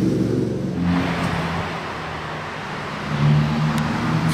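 A Ferrari Purosangue arrives on a snowy Monaco street, its engine a steady low rumble that swells toward the end, close and fairly loud with light traffic noise around it.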